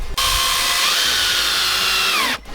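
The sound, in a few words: power drill screwing fibre-cement deck boards onto clips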